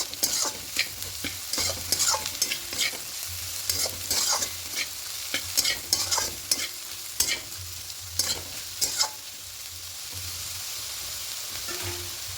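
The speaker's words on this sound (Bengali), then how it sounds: "এবার পোস্তটাকে আরো একটু ভালো করে নাড়াচাড়া করে নেবো" Bottle gourd peel and potato with poppy seeds being stir-fried in a pan, with repeated scraping strokes of a spatula over a steady sizzle, fairly close and without talk.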